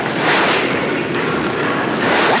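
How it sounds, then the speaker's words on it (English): A radio ad sound effect of the U.S. bobsled team gearing up for the 1992 Olympics: a loud, steady broadband rushing roar that swells slightly over a couple of seconds. "That's the sound of the U.S. bobsled team gearing up for the 1992 Olympics."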